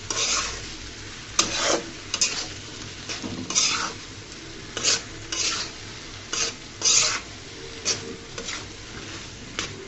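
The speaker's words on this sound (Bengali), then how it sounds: "সবগুলো উপকরণ আমি একসাথে মিশিয়ে নিচ্ছি" Potatoes and spices for ghugni are stirred together in a pan, a spoon scraping and clinking against the metal in repeated bursts over a soft sizzle, close and alone.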